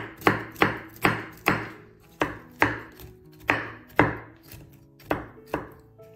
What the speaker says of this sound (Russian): Орешки нарезаем вот такими крупными кусочками